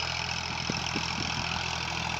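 A 35 HP farm tractor engine runs steadily at close range, a continuous low mechanical drone with a faint knocking texture and no talk.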